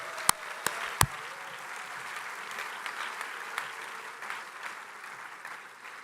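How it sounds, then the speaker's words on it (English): Auditorium audience applauding awardees at an international astronautical congress, a steady wash of clapping that opens with a few sharp, loud claps and then settles into sustained, moderately distant applause. "Give them another round of applause"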